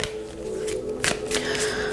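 A deck of tarot cards is shuffled by hand in a quiet room, with soft riffling and a couple of brisk flutters over about two seconds.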